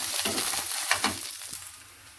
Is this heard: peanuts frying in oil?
yes